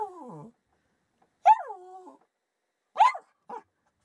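A dog whines and yips at a mouse inside a wall: a drawn-out whimper followed by a few short, high cries, close by and otherwise quiet.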